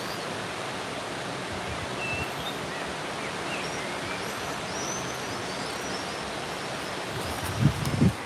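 River water gushing in Corte, Corsica: a loud, steady broadband rush holding evenly throughout, with a brief rustle or thump near the end.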